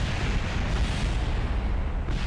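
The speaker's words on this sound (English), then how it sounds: "Everything exploding." A spacecraft blowing apart in the game Kerbal Space Program, a continuous loud rumbling roar of explosions lasting a couple of seconds with no pause.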